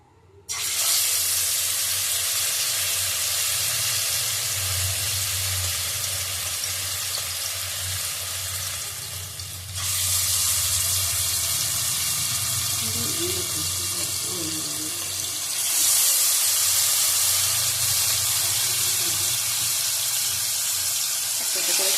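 Marinated chicken pieces dropped one by one into a hot pan for chicken chaap, frying with a steady, loud hiss and sizzle that swells in intensity as more pieces go in.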